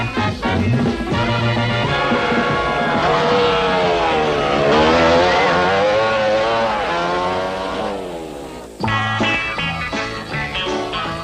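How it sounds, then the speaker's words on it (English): Racing motorcycles roar at speed through a town, their loud engine whine rising and falling in pitch as the bikes pass close by. The sound dips briefly before another machine screams past. "With the rest of the riders thundering through town"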